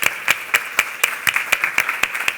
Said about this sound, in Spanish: me parece que merece un aplauso también